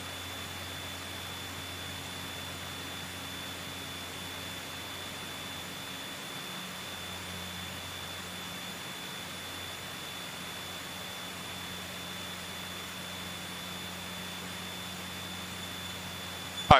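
A Scottish Aviation Bulldog T.1 trainer's engine holds full power for takeoff, a steady loud drone with a constant hum and rushing noise from inside the aircraft, with no talk.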